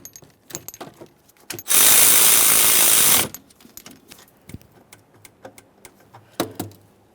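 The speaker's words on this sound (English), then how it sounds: "Now it's time for the two 10mm headed mounting nuts along the backside here. Once we have those snug, we're going to torque those to 75 inch-pounds." A ratchet wrench works the 10mm alternator mounting nuts on a 1994-2001 Dodge Ram 1500, with sparse, close metallic clicks and a loud, sustained whirring burst in the middle.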